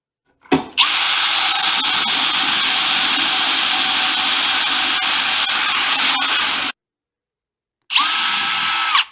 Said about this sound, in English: So I drill one out, all the way down, take some more coolant, drill the next one.